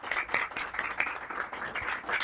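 Applause from an audience at an urban law conference at a university, a brief burst of many hands clapping at moderate distance, steady and unbroken, with no voices over it.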